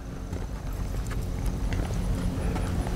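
A ridden horse walks during a training session, hooves clip-clopping in a steady, close rhythm over ground noise, with faint breathing and tack sounds.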